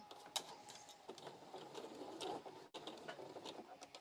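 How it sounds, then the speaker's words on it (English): A sewing machine stitching fabric masks, running in short bursts of fast rhythmic clatter with brief pauses between, fairly quiet and close. "All right, let's sew."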